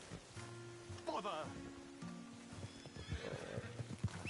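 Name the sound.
horse whinnying and hooves clip-clopping, from the video game Red Dead Redemption II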